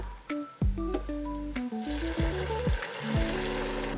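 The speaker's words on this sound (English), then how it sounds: "We're gonna let that simmer for just a couple of minutes." Cabernet Sauvignon red wine bubbles and sizzles in a pan as a base for spaghetti and meatball sauce, with close bursts of crackling and scraping stirs, some brief tonal clanks, and no talking.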